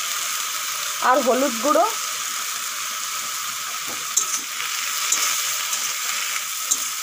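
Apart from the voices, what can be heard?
shrimp shells frying in hot oil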